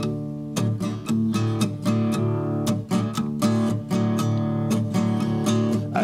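A song is played on guitar, a steady strummed rhythm of bright chords repeating evenly at close range with no voice.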